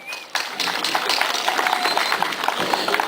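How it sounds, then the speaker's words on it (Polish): Crowd applause at a Polish harvest festival (dożynki) in Siechnice commune, a dense steady patter of many hands clapping that starts abruptly and holds at an even level, with some voices mixed in. "No brawa olbrzymie, gdzież są one?"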